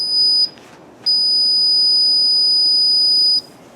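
A loud, steady high-pitched electronic beep from a sensor in a football sounds briefly, stops, then returns and holds for a couple of seconds before cutting off.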